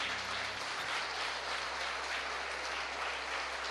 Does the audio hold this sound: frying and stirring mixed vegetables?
no